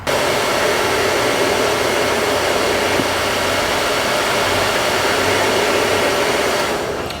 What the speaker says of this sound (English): Now let's try the hairdryer.